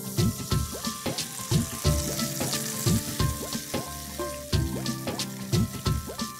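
Tomato paste from two or three tomatoes fries in a pan with oil, giving a steady close sizzle broken by repeated clinks and scrapes of stirring; no one talks.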